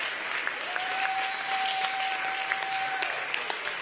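Steady applause from an audience at a high school awards ceremony honoring a senior student athlete, dense clapping throughout with a sustained whistle-like tone running through the middle.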